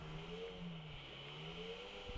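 A motorcycle engine in GTA IV hums steadily in the mid-distance with a slight rising and falling pitch, a continuous quiet drone with no talk over it.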